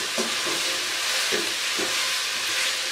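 Chicken pasta seasoned with black and red pepper, stirred in a hot pan: a steady loud sizzle and hiss, broken by soft, repeated scraping strokes of the spoon at an even pace.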